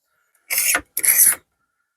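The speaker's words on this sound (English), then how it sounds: "Got the last few bits of old cork to scrape off near this brass fitting" Old cork being scraped off the handle of a split cane fishing rod near a brass fitting: two short, close rasping strokes, each about half a second, separated by a brief pause, followed by a faint tick.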